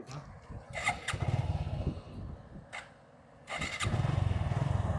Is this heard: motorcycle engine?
yes